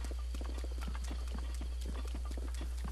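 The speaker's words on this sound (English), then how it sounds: "Hey, guy riding a horse." A horse's hooves clip-clop in The Legend of Zelda: Breath of the Wild, a steady rhythmic trot of hoofbeats over constant low background noise.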